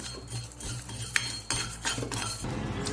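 Cumin seeds dry-roasting in an empty kadai with no oil, stirred with a metal spoon: close scraping strokes, a few clinks against the pan, and a light rustle of seeds between them.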